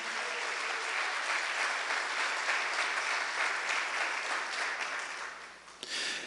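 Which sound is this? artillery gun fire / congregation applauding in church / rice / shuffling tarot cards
congregation applauding in church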